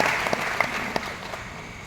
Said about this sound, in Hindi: आपने तालियां ना वैगनार वाली बजाई हैं